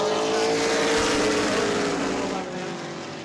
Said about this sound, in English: Cars all over the speedway.